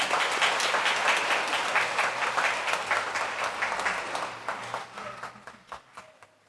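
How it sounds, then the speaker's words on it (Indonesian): A congregation at a Catholic Easter Sunday Mass claps in a steady, dense burst that gradually thins into scattered, separate claps before dying away. "Kita sambut dengan tepuk tangan untuk mereka."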